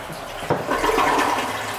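Toilet flushing in a home bathroom, a sudden loud rush of water that starts abruptly and keeps a steady, close swirling drain to the end.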